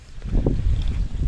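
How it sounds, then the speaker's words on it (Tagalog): Strong wind buffets the microphone outdoors in a bitter gourd garden under a trellis, producing heavy, low, rumbling gusts that swell and ebb over a short stretch. "Sobrang lakas ng hangin."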